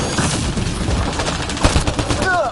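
Continuous video game gunfire, a steady dense barrage heard up close and loud, with a voice briefly heard over it.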